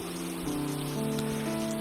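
Rain falls drop by drop onto the ground, a steady soft patter over a continuous low hum, fairly quiet and close, with no voices.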